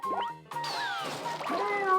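A cat in Katamari Damacy REROLL meows several times in quick succession, the short cartoonish cries set against cheerful game music.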